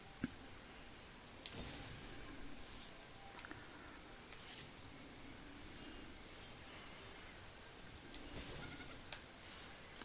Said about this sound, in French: Tiens, revoilà des moutons.